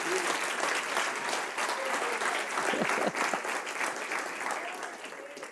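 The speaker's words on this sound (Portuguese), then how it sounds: "dê um aplauso forte para o Senhor Jesus" A church congregation applauding strongly during a sermon, many hands clapping in a full, sustained burst that carries on steadily, with a faint voice underneath near the end.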